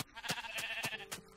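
Sheep in Minecraft bleat four times in a quick, evenly spaced series, each call short and nasal, close and fairly quiet.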